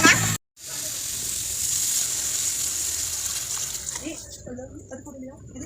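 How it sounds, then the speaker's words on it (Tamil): Water poured into a pot while cooking beef biryani, a steady, fairly close gushing pour that runs for several seconds after a brief break, then thins out near the end as faint voices come in. "தண்ணி கொண்டே ஊத்துற"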